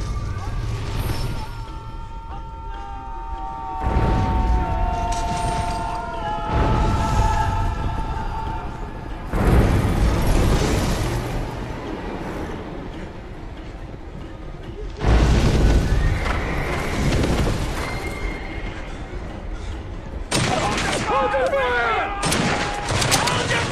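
Gunfire erupts in a battle scene in intermittent loud volleys and booming bursts, mixed with horses whinnying, hooves and shouting, a chaotic, dense wartime din.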